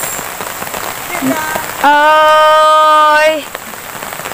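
Heavy rain pours steadily during a flood, a dense hiss filling the whole stretch, while a voice cries out with a sustained, tonal call in the middle.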